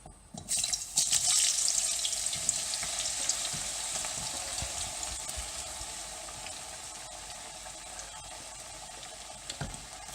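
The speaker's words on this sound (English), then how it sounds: "now add the potatoes and then the onions straight on top" Potatoes and onions fry in a hot pan for a Spanish omelette. A loud hissing sizzle flares up at the start, then settles into a steady crackling fry that slowly softens, with a couple of faint scrapes near the end.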